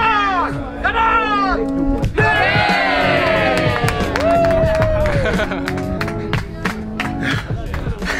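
A crowd at an outdoor bouldering festival on a medieval castle wall cheers, whoops and claps loudly and continuously for a climber, with shouts and voices mixed through the din.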